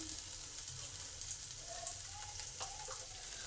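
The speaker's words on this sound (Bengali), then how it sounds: "রসুনটাকেও ভালো করে ভেজে নেব" Grated ginger and chopped garlic frying in a pan, a soft continuous sizzle at low level with faint scraping stirs near the end.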